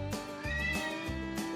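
A cat meows a few times in quick succession at a taxidermy museum in Pleasanton, Texas, the calls loud and close with strained, whiny tones over a droning background.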